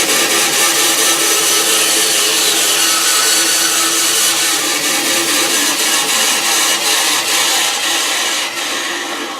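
Close, loud sawing runs steadily through wood for a 45-degree cut on aircraft canopy work, a continuous rasping power-tool drone that eases off slightly near the end.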